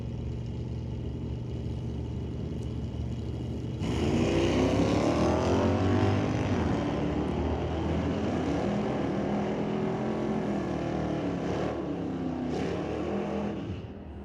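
Drag race cars at Mission Raceway Park roar down the lanes during an NHRA Division 6 test and tune, a loud sustained engine drone that swells sharply and holds steady with shifting pitch before easing off.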